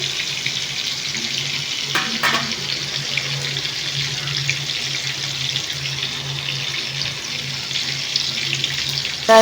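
Fish fry in hot oil in a home kitchen, the fish flipped after one side has browned, giving a steady, even hiss of sizzling throughout with no talking.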